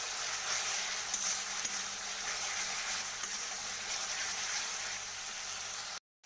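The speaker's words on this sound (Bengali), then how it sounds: "তো এটাকে ভালো করে কষিয়ে নেব আমি।" Spice masala for a duck egg curry fries and is stirred in a pan, giving a steady, close, hissing sizzle with occasional soft scrapes, then cutting to a brief silence just before the end.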